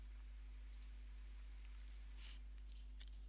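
A few faint, sharp computer mouse clicks while using Xsteel steel-detailing software, scattered singly and in quick pairs over a steady low electrical hum.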